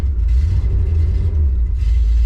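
The 454 engine of a 1974 Corvette runs just after its first start-up of the season. A loud, close, heavy low rumble holds steady with slight wavering roughness and no voices.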